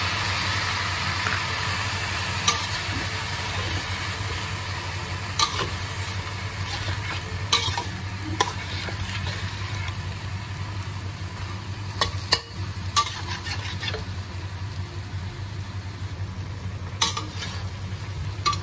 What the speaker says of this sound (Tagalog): halu-haluin lang muna natin guys